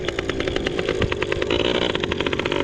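A 1996 Yamaha PW80 two-stroke dirt bike engine idles while warming up, a loud, close, buzzy rattling drone with rapid even pulses that rise slightly in pitch near the end.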